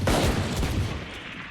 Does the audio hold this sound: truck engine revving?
no